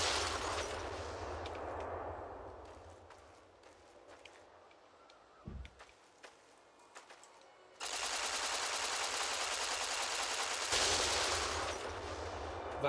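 Rapid gunfire in Fallout New Vegas aimed at warheads, dense bursts of automatic shots at the start and again in the last seconds, separated by a quieter stretch with scattered clicks and thumps.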